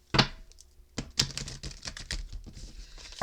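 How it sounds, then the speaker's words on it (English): Tarot cards are shuffled by hand up close: quick, crisp clicking and riffling taps in uneven bursts, fairly quiet, with no talking. "let me give these another shuffle because that was like 6 cards"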